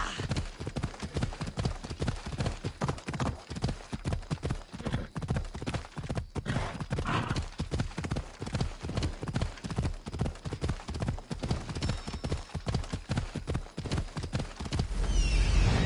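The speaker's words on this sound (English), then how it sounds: "Looks like a sturdy horse." Horse hooves clip-clop in a steady, brisk rhythm from a sturdy horse in the video game Assassin's Creed Odyssey, the trotting beats loud and close and continuing throughout with no talk.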